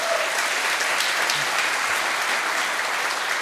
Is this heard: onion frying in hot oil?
no